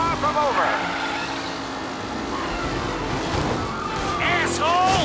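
Race car engines in Mafia Definitive Edition, a continuous loud car engine drone with rising and falling revs and tire noise, as cars race nearby during a game race, with a voice talking over it.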